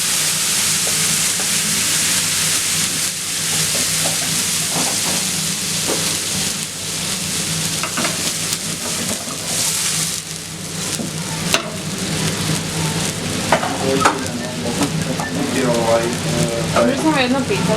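Food sizzles and crackles steadily as it is stir-fried in a pan, a continuous loud hiss with clinks and scrapes of stirring, while people talk quietly nearby.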